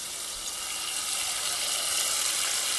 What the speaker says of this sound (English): And I'm putting a lot of water in here.